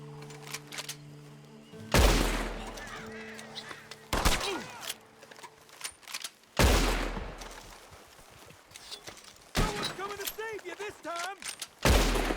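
A Red Dead Online shootout brings several loud, separate gunshots with sharp attacks and echoing tails, spread irregularly across the span, with talk and game sounds in between.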